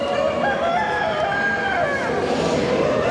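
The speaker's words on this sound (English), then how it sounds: "This is Italian chicken." An Italian-breed rooster crows at a poultry exhibition, one drawn-out call rising over the busy background of other birds and hall noise.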